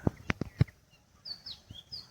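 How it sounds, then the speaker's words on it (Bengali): Several short bird calls ring out early, followed by thin, higher chirps and tweets from different birds at a moderate distance, no talking. "অনেক রকমের পাখির ডাক শুনতে পাচ্ছি।"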